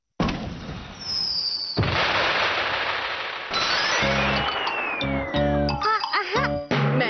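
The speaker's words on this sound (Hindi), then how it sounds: "मैंने कहा था ना कि सुंदर आतिशबाजी दिखाई देगी।" Fireworks in a Doraemon cartoon: a rising whistle followed by a burst of loud crackling explosions, then layered bangs with bright tonal chimes and shimmering pops as the display continues.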